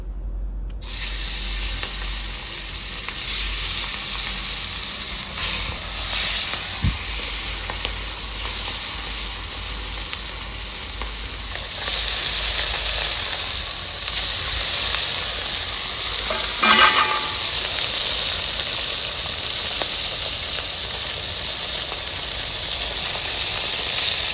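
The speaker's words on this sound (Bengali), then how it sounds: "বন্ধুরা মাছগুলো ভেজে নেবো।" Rohu fish pieces sizzle in hot oil during frying for a village-style Hyderabadi fish biryani, a continuous hissing crackle with occasional louder spits and stirring sounds over the long stretch.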